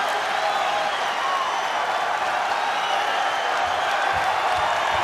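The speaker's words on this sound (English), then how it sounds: "This crowd making some noise" A large arena crowd at a college wrestling match roars and cheers, a loud, steady wash of voices and clapping that carries on without a break.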